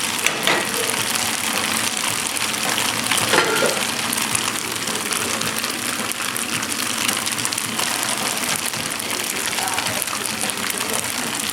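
Tofu frying in a hot cast iron pan gives a steady, loud hiss and sizzle that runs unbroken throughout, with no talking heard.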